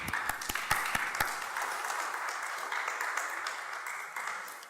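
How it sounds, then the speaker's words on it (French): A crowd applauds steadily, a dense wash of clapping with a few sharp individual claps standing out at the start, fading slightly toward the end. "On les applaudit s'il vous plaît."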